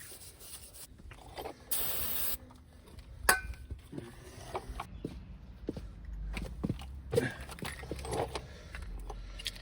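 A short burst of mineral spirits sprayed onto a front wheel hub from a 2005 Ford Explorer XLT RWD, close and brief, set among quiet handling, scraping and tapping noises in a home garage workspace.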